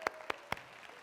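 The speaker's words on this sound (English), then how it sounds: "Give her a round of applause" A few scattered hand claps in a quiet classroom-style presentation room, three distinct nearby claps spaced evenly apart over a faint background.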